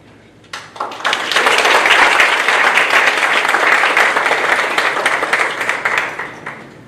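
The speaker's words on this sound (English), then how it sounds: "Thank you for the applause." An audience applauds at a high school sports awards ceremony, with sustained clapping that rises quickly after a quiet start, holds strongly for several seconds, then tapers slightly.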